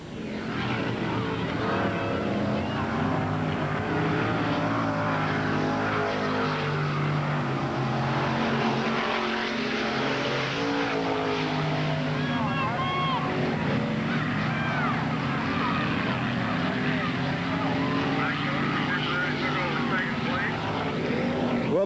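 Late model race cars roar around Ada Raceway in a steady, dense wash of engine noise that never lets up, with an announcer calling the race over the top.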